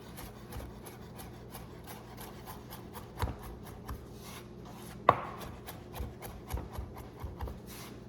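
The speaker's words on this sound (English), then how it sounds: "And again, we're just gonna chop that up." A knife chopping fresh mint and herbs on a cutting board for a tiropita twist, a close, quiet series of regular crisp taps and rubbing strokes with a few sharper knocks, no talk.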